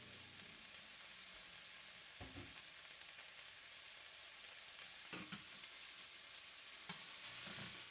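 Chopped spinach sizzling in a hot pan for a bacon and spinach quiche, a steady close frying hiss with a few soft scrapes of stirring and no talk.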